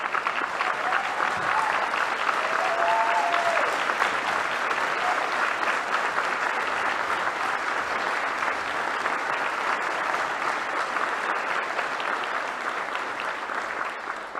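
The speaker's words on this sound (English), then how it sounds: "I ask you to give her a big round of applause" A large audience at a state budget address claps in sustained applause, a thick, steady roar of hands that holds at a loud level for a long stretch and eases slightly at the end, with faint tonal background sounds.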